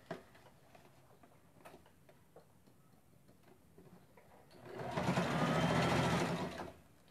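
Sewing machine stitching along the zipper of a small handbag, a soft ticking of handling first, then a loud, close burst of steady whirring stitching lasting about two seconds.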